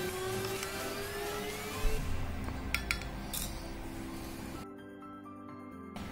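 Homemade turmeric face wash powder is stirred in a container, giving quiet scraping with a few light clinks of a spoon against the sides and no talking.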